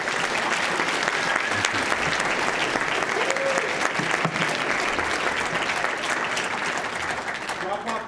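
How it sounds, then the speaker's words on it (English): Sustained applause from a lecture hall audience at the close of an economics lecture, steady and dense for the full eight seconds, with faint voices mixed in beneath the clapping. "Let's get a round of applause."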